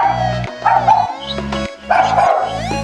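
Several dogs in a pet shop bark and yap in repeated loud bursts, with short pauses between volleys and a constant busy room tone underneath.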